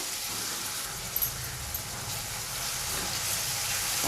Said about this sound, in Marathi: आपण एक पळी तेल तापवून घेतलं आहे त्यामध्ये थोडीशी कढीपत्ता आणि कांदे घालून घेऊया